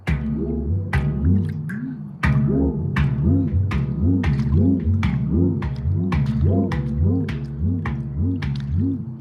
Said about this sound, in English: And then when you put it in the water, this is what it sounds like in the water.